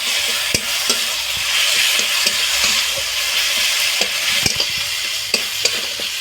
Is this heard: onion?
yes